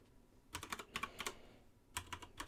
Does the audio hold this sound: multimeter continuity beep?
no